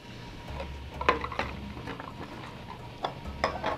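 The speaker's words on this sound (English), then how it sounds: "I've got 10 eggs here. I'll get these cracked in here." Ten eggs cracked into a casserole dish: a series of sharp little taps and clicks against the dish, spaced irregularly, with soft kitchen clatter and a low hum behind.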